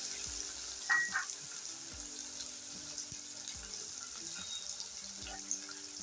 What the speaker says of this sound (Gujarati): હવે આપણે સૌથી પહેલાં ડુંગળી નાખી દઈશું ગેસને ધીમો કરી દઈશું